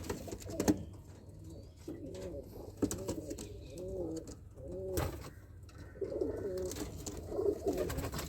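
Teddy female pigeons cooing in repeated soft, throaty phrases, several birds overlapping at close range with steady low background noise and occasional sharp knocks.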